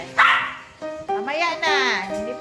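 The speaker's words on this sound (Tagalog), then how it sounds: "Yan yung aso kong maingay, nangina ng pagkain." A noisy dog yips and whines nearby in a few short, high-pitched vocal bursts, eager for food.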